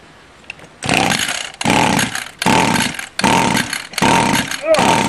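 A Stihl weedeater's small two-stroke engine, with no primer bulb, is pulled repeatedly while trying to start. Five loud, rasping bursts each sputter for about half a second and are separated by brief pauses.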